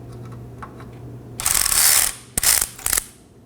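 A ratchet breaks loose 13mm parking brake bracket bolts under a 2015-2023 Nissan Maxima 3.5L V6. A loud, close clicking run is followed by two shorter bursts, with no voices.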